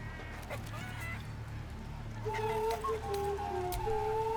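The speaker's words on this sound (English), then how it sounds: "You just gotta chase the chicken round the course and through the posts." Chickens cluck repeatedly in a chicken-chasing minigame in Baldur's Gate 3, the calls close and steady over a low game backdrop, growing busier toward the end.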